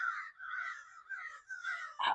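Crows caw outdoors in a rough, drawn-out series of calls, fairly faint and distant, ending with one sharper caw.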